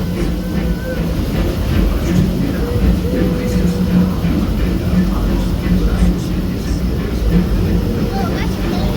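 Steady rumble of the Disneyland Railroad train in motion, a continuous low rolling drone with faint rhythmic clatter, close and loud from on board, with some voices mixed underneath.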